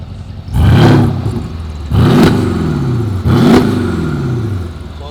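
Mercedes-AMG GLE with roughly 700 horsepower and active exhaust valves shut, revving loudly three times in quick succession, each burst rising then falling back to a steady idle, close by and with no talk.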